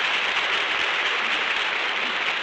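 A studio audience at a radio theatre broadcast claps in dense, sustained applause, loud and even from start to finish with no voices over it.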